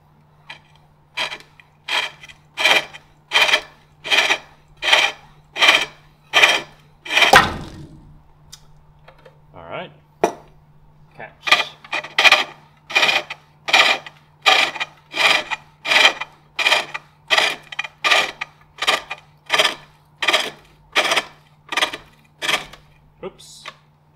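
A pole lathe tool cutting into a wooden bowl, a steady train of rhythmic rasping strokes, each scrape matching the treadle's back-and-forth, close and clear, with a short pause near the middle and a constant low hum beneath.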